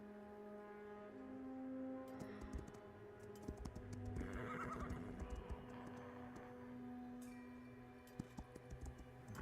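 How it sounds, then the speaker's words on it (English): A horse in a video game neighs loudly in a drawn-out whinny while hooves clop in a brisk rhythm, all over a steady bed of game music tones. "Oh, is this the rare horse?"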